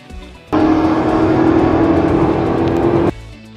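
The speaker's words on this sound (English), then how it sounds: "I can hear the supercharger whine. I can hear it flying by." A supercharged race car roars past close by with a high, steady supercharger whine over the engine rumble for a few seconds, then cuts away.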